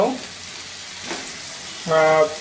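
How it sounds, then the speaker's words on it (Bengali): Chopped tomatoes go into a pan of frying spice masala for an oil-free beef curry, giving a steady close sizzle with a brief tonal, voice-like sound at the start and again near the end. "এবার আমরা টমেটো দেব"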